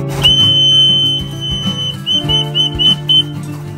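A shrill whistle calls pet pigeons at a loft, with one long steady blast followed by a run of short, rapid toots, loud and close over a low background hum.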